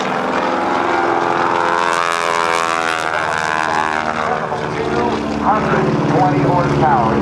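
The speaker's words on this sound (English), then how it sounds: "220 horsepower. It's a Continental engine." Aerobatic airplane powered by a 220 horsepower Continental engine performing at a naval air station airshow, its propeller drone loud and steady throughout with pitch shifting through a maneuver, while a voice talks over it.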